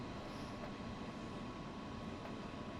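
A train arriving at a station on the Hamburg–Lübeck line in Train Sim World 2 makes a faint, steady rumble of wheels and running gear with no voices.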